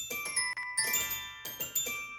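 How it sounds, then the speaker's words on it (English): A Keyscape toy piano glockenspiel octave patch plays bright, bell-like struck notes in short repeated phrases, each ringing briefly, soft and alone. "So keyscape, I was using the toy piano Glock octave."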